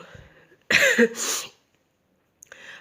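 A burst of harsh coughing, two or three loud hacks close together, followed by silence and a faint noise at the end.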